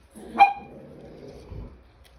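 A single sharp dog bark or yip from a pet indoors, brief and fairly close, followed by a low rumble of room noise.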